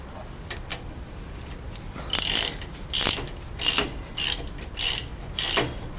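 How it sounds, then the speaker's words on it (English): A socket wrench ratchets while tightening a bicycle crank arm bolt, six crisp clicking bursts in a steady back-and-forth rhythm after a few faint knocks, close and clear. "Just tighten it until it's hand tight."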